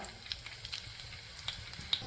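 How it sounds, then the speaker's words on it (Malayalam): Mustard seeds and a few chillies popping in hot oil in a Kerala home kitchen, a steady soft sizzle broken by scattered sharp little pops and crackles, fairly quiet and close, with no voices. "കടുക് പൊട്ടി തുടങ്ങിയിട്ടുണ്ട്"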